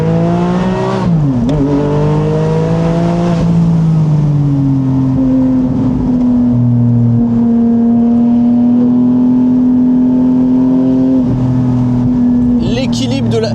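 A hybrid Porsche Boxster engine pulls hard and loud in overboost mode, its pitch sweeping up through gear changes and then holding a steady high drone.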